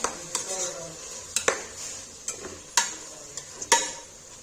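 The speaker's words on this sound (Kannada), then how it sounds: "ಈ ಟೊಮೆಟೊ ಫುಲ್ಲು ಇದಾಗಬೇಕು, ಅಂದರೆ ಫುಲ್ ಫ್ರೈ ಆಗಬೇಕು." Tomatoes fry in a pan while a utensil stirs them, giving a soft sizzle broken by scattered metallic clinks and scrapes against the pan, fairly quiet and close.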